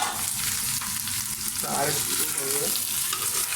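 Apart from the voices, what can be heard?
chicken meat frying in a pan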